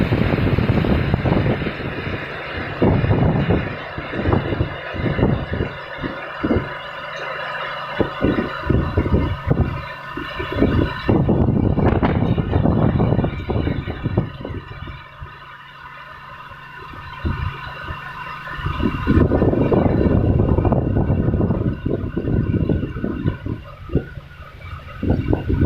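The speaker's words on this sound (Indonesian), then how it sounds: "hujan angin" Heavy rain driven by strong wind in Jati Pulo pours down in a loud, steady roar of broadband noise, rising and easing in gusts, close to the microphone and without clear speech.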